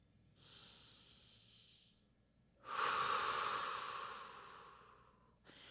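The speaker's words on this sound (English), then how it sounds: "Breathe deeply." Slow, deep breathing during a shoulder stretch: a soft, airy inhale followed by a louder, longer exhale close to the mic, then the start of another breath.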